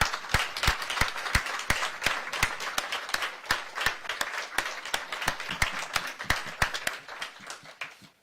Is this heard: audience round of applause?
yes